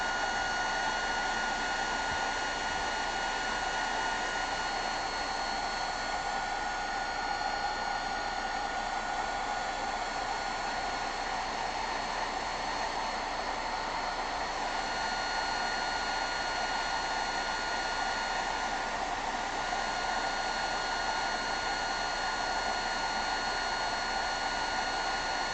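A blowing tool rushes steadily over powder, a continuous close airy hiss like a hair dryer holding an even level throughout with no voices.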